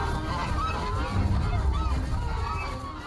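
Geese honking in an animated film, a dense chorus of calls blended into a busy, noisy soundtrack with some speech babble underneath.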